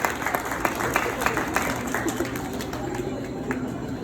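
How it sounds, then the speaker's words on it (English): An audience at a space station presentation gives a round of applause: fairly quiet, slightly distant clapping with distinct individual claps, continuing steadily for a few seconds. "let's give Lexi one last round of applause"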